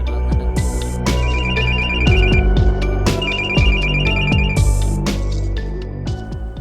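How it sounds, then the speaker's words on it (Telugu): A mobile phone plays a loud melodic ringtone, repeating chiming phrases in bursts with no one talking over it. "అరే రింగ్ అవుతుందిరా"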